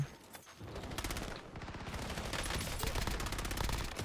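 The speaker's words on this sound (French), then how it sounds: "Je comprends pas qui me tire dessus" Rapid automatic gunfire in a multiplayer shooter game, with dense bursts of shots growing louder and more continuous over a few seconds and no talk.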